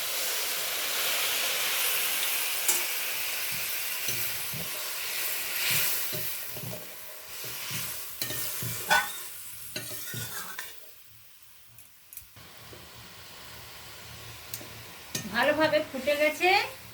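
Hot water poured into a hot pan of fish curry sets off a loud hiss and sizzle that fades to a quieter simmer, with bursts of bubbling and spoon stirring near the end.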